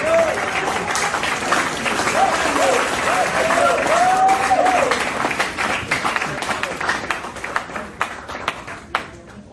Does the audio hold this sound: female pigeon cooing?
no